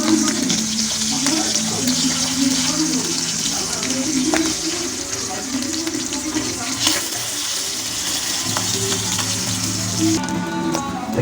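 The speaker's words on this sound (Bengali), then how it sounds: "এরকম বড় বড় পাবদা মাছ প্রথমে নিলাম চুলার জাল মিডিয়াম দিয়ে এরকম করে ভাজতে হবে।" Large pabda fish fry in a pan over a medium flame with a steady, close, hissing sizzle, and low tonal sounds murmur faintly beneath it.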